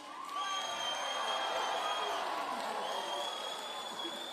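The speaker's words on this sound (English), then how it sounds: "Now, one thing that our people have become accustomed to is loud and thunderous applause." Festival audience at an entertainment stage giving loud, sustained applause, dense clapping with scattered cheers and whoops, rising quickly and holding steady before easing slightly.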